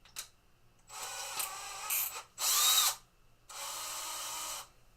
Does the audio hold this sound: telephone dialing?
no